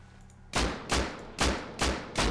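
An AK rifle fitted with a 4x scope fires in the video game Rust, four loud, sharp shots spaced about half a second apart after a quiet lead-in.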